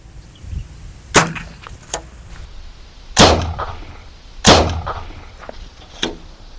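A homemade spirit-fuelled cannon made from Yakult bottles fires several times: sharp, loud bangs spaced a second or so apart, each with a quick echoing tail, and smaller pops between.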